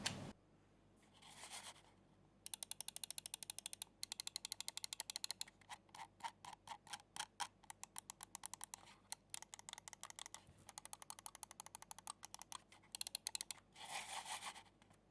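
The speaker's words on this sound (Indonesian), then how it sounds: "Ini salah satu klik mouse yang paling enak yang pernah gue coba." Razer Viper V2 Pro mouse clicks: quiet, crisp, rapid clicking in bursts of rhythmic trains with short pauses, close and alone, with a couple of soft rustling sweeps at the start and end.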